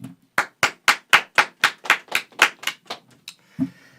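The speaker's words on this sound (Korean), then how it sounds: "짝짝짝 박수치라고 박수해 빨리" About a dozen sharp hand claps in a quick, steady rhythm, close and loud, followed by a brief thump.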